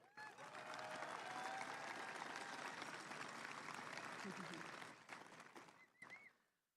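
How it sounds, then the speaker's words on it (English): A large graduation crowd claps for the school staff at a high school ceremony: sustained, dense applause with a few whoops, fading after about five seconds into scattered claps and quiet. "Let us give a big round of applause to the amazing staff of Livermore High School."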